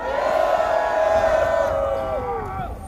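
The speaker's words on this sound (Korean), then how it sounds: "큰 박수 부탁드리겠습니다." Outdoor political rally crowd cheering and shouting together, a loud, dense roar of many voices with applause underneath that swells and then slowly fades out toward the end.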